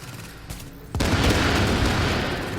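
After a quiet lead-in, a single loud gunshot from the online shooter Tom Clancy's The Division, followed by a booming, rumbling tail that lingers close and strong.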